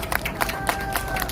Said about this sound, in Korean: 우리 다 같이 자축의 박수 한번 칩시다